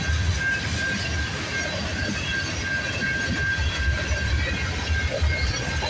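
CN freight train A421 rolls past on rainy, foggy morning rails, a loud, steady rumble of wheels with a sustained high squeal running throughout.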